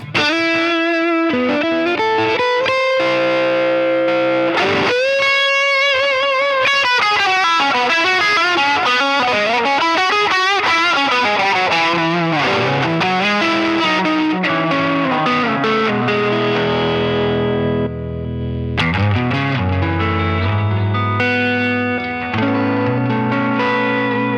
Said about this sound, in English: if you've got your delay on